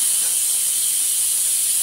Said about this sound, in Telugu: ఇప్పుడు ప్రెషర్ మొత్తం తీసి ఓపెన్ చేద్దాం.